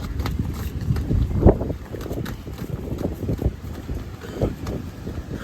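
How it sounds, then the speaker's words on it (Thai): Strong wind buffets the microphone on a beach at Pattaya, Thailand, a continuous rumbling roar with gusty swells throughout and no clear voices. "ลมก็แรงจะได้ยินเสียงแม่หมอไหมเนี่ย"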